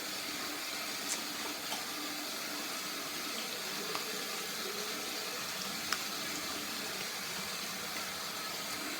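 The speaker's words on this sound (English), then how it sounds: "sorry for the water noise" A tap runs steadily into a sink during a late-day shave, a continuous even hiss of water with a few faint clicks and taps on top.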